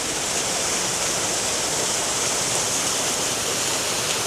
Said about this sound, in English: With a waterfall over here.